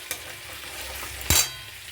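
Masala with turmeric and salt frying in a pan for a fish curry, a steady low sizzle with one sharp scrape of a stirring spoon near the end, close and alone.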